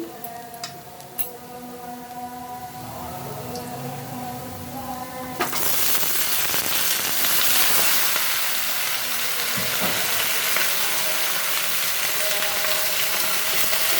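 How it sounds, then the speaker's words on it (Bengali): Chopped onion and garlic fry in hot oil in a pan, starting with quieter cooking sounds and then bursting into a loud, close, continuous sizzle that holds steady to the end, with no talking. "পেঁয়াজ রসুন সুন্দর করে ভেজে নিলাম"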